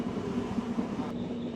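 A passenger train on the Jaffna to Vavuniya line rumbles steadily from onboard, a dense, continuous rolling roar with a low hum running through it.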